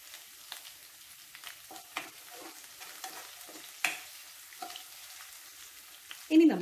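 Green chillies and curry leaves fry in a pan for a chicken white kurma, a soft steady sizzle broken by occasional stirring scrapes and a louder spatter near the end.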